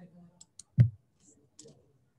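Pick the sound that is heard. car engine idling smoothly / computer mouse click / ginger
computer mouse click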